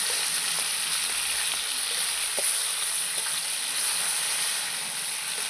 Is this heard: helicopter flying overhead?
no